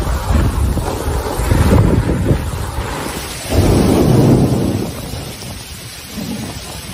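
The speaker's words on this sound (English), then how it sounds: "Strong winds and heavy rain caused flooding." Heavy rain and strong wind roar loudly in surging gusts during a flooding storm in Honolulu, Hawaii, with a deep rumbling swell midway through.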